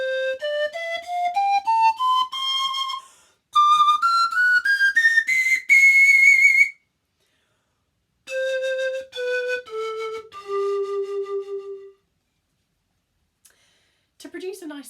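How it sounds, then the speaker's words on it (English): Diatonic panpipes with a two-octave range from C, low pipe a G, played in clear breathy tones: a rising run of stepped notes, a second climbing phrase, then after a pause a few lower held notes, loud and alone. "To produce a nice sound on the panpipes, you place the pipe underneath your bottom lip"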